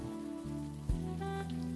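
Rain falls steadily on surfaces in a gritty urban scene from the game Unavowed, a soft constant patter mixed under low sustained tones, with one brief thump partway through.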